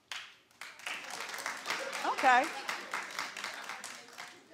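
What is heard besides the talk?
studio audience clapping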